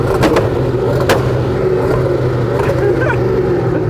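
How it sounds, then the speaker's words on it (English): A Hennessey Venom F5 hypercar's engine revs loud and close, a sustained roar broken by a few sharp cracks and pops. "Go on, rev it up."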